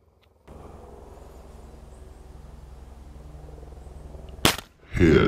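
Break barrel .22 air rifle fired while hunting rabbits in Texas: a single sharp, close crack near the end, preceded by a steady low hum and followed by a brief burst of noise.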